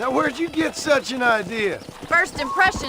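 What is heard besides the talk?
No everyday noise stands out behind the speech.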